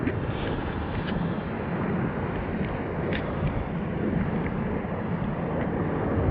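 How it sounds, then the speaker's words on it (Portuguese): Steady broadband wash of sea waves at Iporanga beach in Guarujá, São Paulo, a continuous roar with some wind buffeting the microphone and no voices. "Somente o barulho da natureza, do mar."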